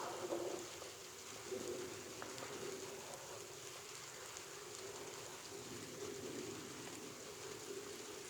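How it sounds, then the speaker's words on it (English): Rain falls steadily outdoors during a horse training session, a soft continuous hiss of drops with faint bird calls in the distance. "I didn't realize it was gonna rain right now"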